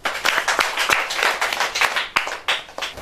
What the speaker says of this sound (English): Please applaud them